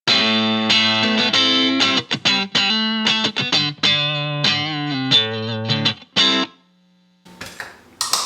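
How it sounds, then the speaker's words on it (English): An electric guitar through a Boss Blues Driver overdrive pedal, playing a gritty, driven riff of distinct notes and chords that stops briefly, leaving a low held tone before a final scratchy strum. "Now if I want to go to something a little dirtier, I will go to the Boss Blues driver."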